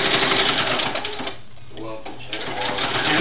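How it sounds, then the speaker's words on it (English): Serger sewing machine running steadily while stitching a seam on a doll dress, a dense buzzing whir that briefly slows and dips near the middle before picking back up, with a voice talking over it. "we're going to sew that all the way down"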